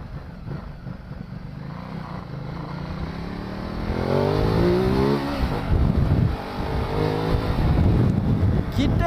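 A Ducati 1200 motorcycle on a test ride, its engine droning steadily, then rising in pitch and loudness as the rider revs and accelerates, with wind noise and a voice talking over it.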